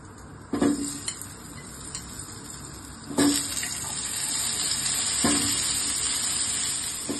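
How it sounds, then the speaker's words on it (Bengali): Potato pieces rubbed with salt and turmeric fry in white oil in a frying pan, giving a steady bright sizzle with a few dull knocks as pieces are moved or added. "আমি একটু সাদা তেল দিয়ে দিচ্ছি ফ্রাইং প্যানে, আলুগুলো একটু ভেজে তুলে নেব"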